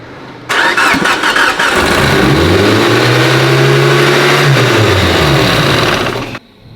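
A Mitsubishi Evo 8 engine on a dyno roars up loudly, its pitch climbing and sweeping in a long rev before dropping back and cutting off abruptly, with no talking; a leak is suspected.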